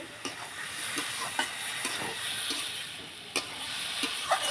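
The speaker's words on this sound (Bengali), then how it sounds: "সবজিগুলো মশলার সাথে খুব ভালোভাবে মিশিয়ে নেব।" Eggplant and beans tossed with spices in a pan make a soft, steady sizzle, broken by scattered scraping knocks from a utensil as they are stirred, close and with no voices.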